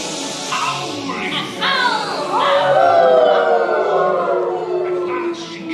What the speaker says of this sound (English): Howling!